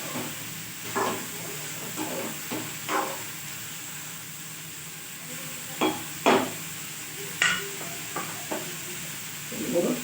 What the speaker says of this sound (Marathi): चांगलं फिरवून घ्यायचं